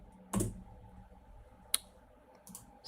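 A few scattered clicks from a computer keyboard, one sharp strike near the start and another in the middle, with sparse faint taps later over a quiet room hum; no talking.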